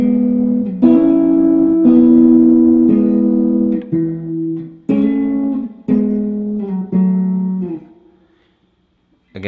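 Guitar chords struck roughly once a second and left to ring, close and loud, before the final chord fades into silence.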